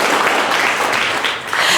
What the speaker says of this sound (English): let's clap for you guys